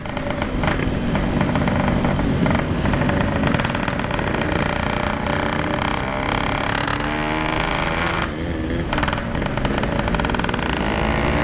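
A motorcycle with a PK3 exhaust roars loudly and raspily, revving and rumbling as it rides along nearby.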